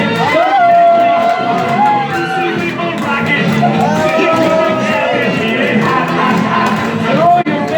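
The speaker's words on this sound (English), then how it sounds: "everybody cheers and claps for them as a way of saying thank you" A cruise ship dining room crowd on the Ruby Princess cheers, whoops and claps for the crew, a lively babble of many voices with shouts rising over it.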